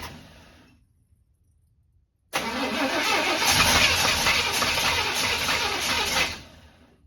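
Old square body Chevy truck, a barn find, cranks and catches after a silent pause, its engine roaring loudly and steadily for several seconds up close before fading off.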